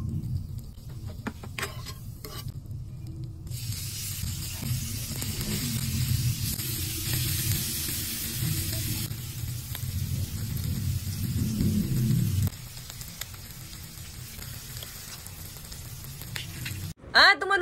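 Sisig sizzles with butter on a hot sizzling plate, a steady close crackling hiss that drops in level about two-thirds through, ending with a brief knock.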